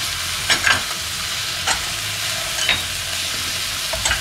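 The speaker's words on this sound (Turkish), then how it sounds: "şimdi karıştırıyoruz hepsini" Vegetables with chili flakes, thyme, black pepper and salt sizzle loudly in a pan, close and continuous, while a utensil scrapes and stirs in a few distinct strokes, with no speech.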